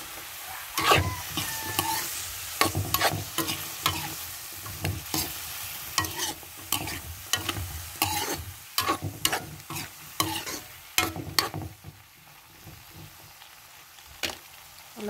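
Okra and eggplant are stir-fried in a pan: a bed of oily sizzle broken by frequent sharp scraping and clattering strokes of a spatula, close and irregular, easing off near the end, with no talking.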